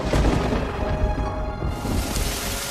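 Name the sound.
rain and thunder starting, sound effect in animated story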